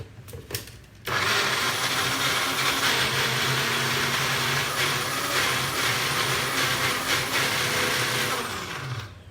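Kitchen blender pulsing chickpeas, lemon juice and garlic for oil-free hummus, a loud steady motor whir kicking in after a second of quiet and running on close and alone.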